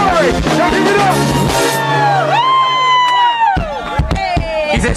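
An audience at a live event cheers and whoops for the drummer, with loud shouts and voices sweeping up and down, punctuated by sharp hits near the end.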